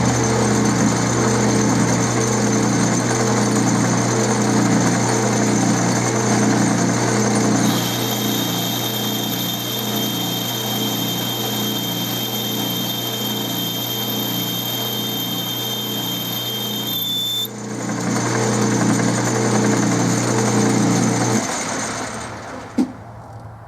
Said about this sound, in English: We'll see how the boring bar does on the stainless.